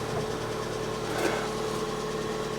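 A stolen-and-recovered Fiat 500 Lounge idling in neutral, its small engine giving a steady, close, buzzing hum with an even low-pitched pulse and no talking.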